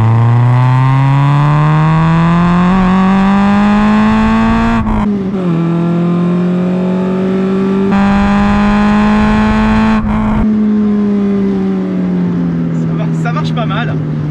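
A Renault Clio with a naturally aspirated engine and a Group N exhaust line revs up loud and close, its pitch climbing steadily, dropping at each gear change, then rising again.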